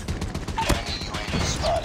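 Rapid gunfire bursts in a Call of Duty Mobile team deathmatch, short crackling volleys close by with a sharp loud shot midway, mixed with game radio chatter.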